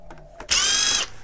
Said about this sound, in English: I actually bought a new drill finally